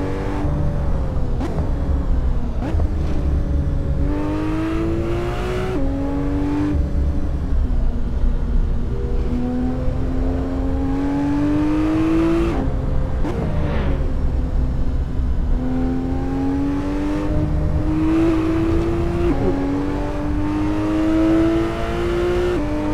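AC sports car driving up Topanga Canyon Road, engine loud and close, revving up and down through repeated rising pitch sweeps as it shifts through gears and corners, continuous throughout.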